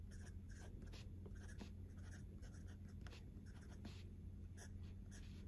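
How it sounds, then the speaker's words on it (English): A fountain pen with a Leonardo #6 nib scratches softly across paper in short strokes, faint and close against a steady background hum. "The nib is very smooth and it follows the line perfectly."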